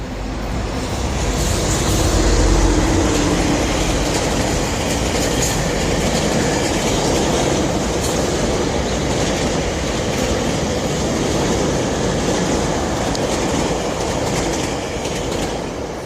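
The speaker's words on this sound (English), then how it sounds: "so that's one of Toronto's famous GO trains, GO transit system." A Toronto GO Transit commuter train rumbles past at close range, its loud, steady roar and clattering wheels filling the whole stretch without letting up.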